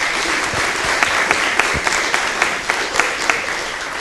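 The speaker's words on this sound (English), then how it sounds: "Please give him a nice round of applause for being here tonight." Steady, loud applause from an audience at a Harrisburg mayoral debate greets the sitting mayor, a thick continuous wash of clapping with a few sharper individual claps standing out.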